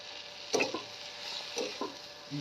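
Green chillies and cumin stir-fried in a pan on a wood-fired chulha make a faint sizzle, broken by two or three soft scraping strokes of a spoon.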